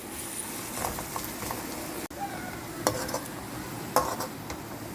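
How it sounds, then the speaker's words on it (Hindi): Onions frying in oil for chicken korma, a constant close hiss and crackle with a few sharper scrapes of a utensil moving through the pan. "अब इस तरफ इसका फ्राइड अनियन बना रहे हैं"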